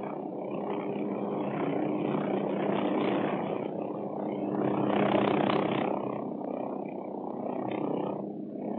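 Hughes OH-6 Cayuse helicopter hovering, a steady dense rotor and turbine roar that swells and eases slightly, close and continuous with no talk.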